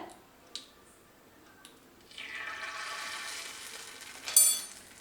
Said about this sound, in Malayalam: ഇനി നമുക്ക് ഒരു ഡ്രോപ്പ് ഒന്ന് ഒഴിച്ചു നോക്കാം, എണ്ണയുടെ പരുവ് അറിയാനായിട്ട്